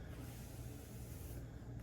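A spray bottle of hair product mists coarse, high-density wavy hair, producing a soft, steady hiss that runs for over a second before stopping, fairly quiet and close.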